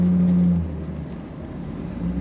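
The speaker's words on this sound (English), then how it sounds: "Just the right amount of rumble coming from the back of this car." Low, steady exhaust rumble from a 1966 Ford Mustang convertible with a 289 V8 while it is driven on the road. The rumble is heard close and fairly loud, easing slightly partway through.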